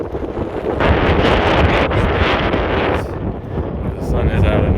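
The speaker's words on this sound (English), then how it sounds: "It's windy in spots." Strong wind buffeting a microphone on a desert trail, a loud continuous roaring rush that swells and dips in gusts.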